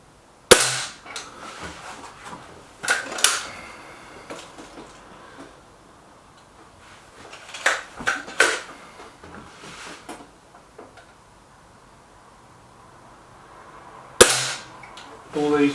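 Sharp, separate shots from an air rifle firing heavy .22 pellets, each a crisp crack followed by a brief metallic ring, spaced irregularly across quiet stretches with low handling noise between them.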